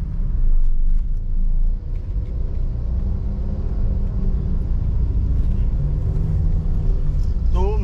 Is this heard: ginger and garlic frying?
no